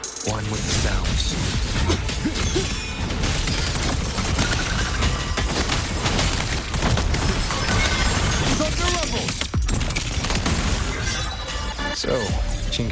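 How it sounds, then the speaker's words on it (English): Heavy rapid-fire blasts from a very powerful automated cannon in the Wuthering Waves video game, a dense continuous barrage of crashing, shattering impacts with voices speaking over the loud battle noise throughout. "Think of it as a very powerful automated cannon."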